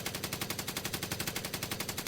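Machine gun fire in a war documentary about the emu war: a rapid, evenly spaced burst of shots rattling continuously at moderate volume, with no voices.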